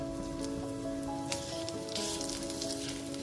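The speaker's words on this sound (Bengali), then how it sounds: "এবার ওই একই তেলের মধ্যে ফোড়নে দিয়ে দিয়েছি একটা তেজপাতা" A torn bay leaf and a teaspoon of whole cumin frying in hot oil for a Bengali katla fish curry, a soft, continuous crackling sizzle with scattered pops over a low steady background hum, no voices.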